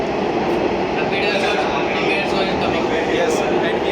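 A metro train runs with a steady, dense rush of rolling noise and air-conditioning hum inside the car, with faint higher squeals over the continuous roar.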